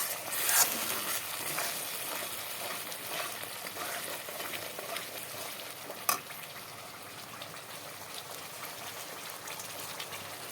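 Rohu fish curry with potatoes sautéing in a pan, a steady soft sizzle with scraping stirs throughout and one sharper clink near the end, no talking.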